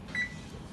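A single short electronic beep from an oven's control panel, faint and brief against a low background hum, with no speech.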